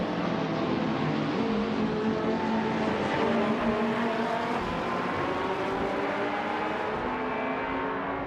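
GT3 race cars battle around a tight, twisting track with a mixed surface, with touring cars alongside; a loud, steady blend of engine drone and shifting revs runs throughout, without breaks or voices.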